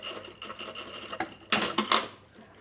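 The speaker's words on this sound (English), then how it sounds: "And then you're just going to stitch along." A domestic sewing machine stitches a label onto a knit top, its rapid mechanical whirr running in short bursts that build to louder, denser stretches near the end, close and without talk.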